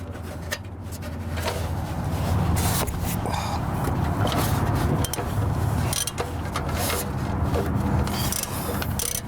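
Ratcheting and scraping of a 14 mm socket on a 10-inch extension, tightening the catalytic converter bolts under a Toyota Prius: a steady, close rasp of metal clicks and rubbing that continues without a break.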